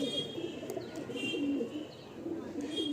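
Soft, repeated cooing from a breeding pair of heavily foot-feathered pigeons in a home loft, faint and close, with a low rolling murmur that rises and falls across the clip and no talking.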